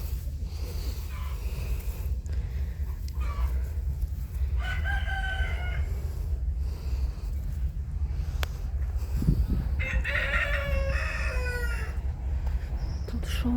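Hens cluck in a backyard poultry yard near a cabbage patch while a rooster crows twice, once around the middle and again more loudly later, over a steady low background hum with no talk.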